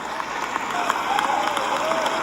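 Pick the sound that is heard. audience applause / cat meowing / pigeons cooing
audience applause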